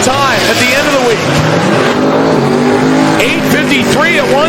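Single-turbo Mustang making a drag racing pass at Sick Week, its loud engine note rising and sweeping over a few seconds with close, continuous roar, while a commentator talks over the sound.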